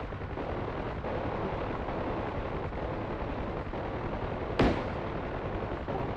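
Attack on bunkers at the south end of an airstrip in a flight simulator game: a steady engine drone runs throughout, broken by one sharp, loud impact near the end.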